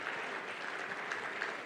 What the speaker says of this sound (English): you clap loudly for this one